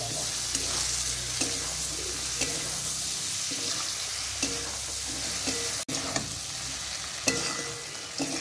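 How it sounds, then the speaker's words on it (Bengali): Chopped tomatoes fry in oil in a pan while being stirred, a continuous sizzle broken by regular scraping strokes of the spoon, close and steady with no talking. "টুকরো করে কেটে রাখা টমেটোগুলো দিয়ে দেব। ভালো করে মিশিয়ে নেব।"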